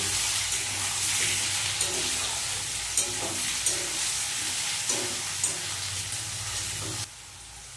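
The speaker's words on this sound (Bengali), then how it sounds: "আর দিয়ে দেবো টমেটো কুচি ভালো করে একটু ভেজে নেব" Chopped tomato with garlic, lightly fried potato and onion sizzles in a hot pan for a rui fish head muriganto, a steady close fry broken by regular stirring clacks, then the sizzle drops to a quieter level near the end.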